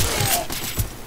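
Gunfire in a shooter video game, a rapid burst of loud, close shots over about a second with bright sharp cracks, with no talk.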